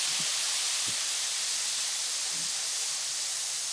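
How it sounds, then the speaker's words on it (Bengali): Chopped onions added to hot oil with whole spices, including dried chillies, cloves and half a spoon of cumin, sizzling in a steady, loud, even hiss with a few faint low bumps and no talk. "কেটে রাখা পেঁয়াজ কুচি দিয়ে দিলাম"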